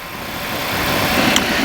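Light aircraft engine holding a steady cruise at about 5,700 RPM in flight, a constant broadband drone with no variation in level throughout.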